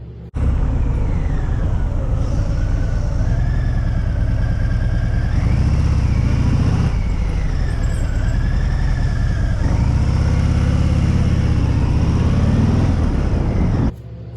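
A Harley-Davidson Sport Glide cruiser motorcycle engine rumbles steadily and close through slow feet-up U-turns, its low throttle note rising and easing in smooth swells with no talking.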